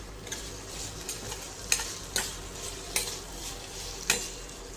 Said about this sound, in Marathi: आता मसाला टाकून घेतल्याच्या नंतर छान असं फोडणी परतून घेऊया आपली.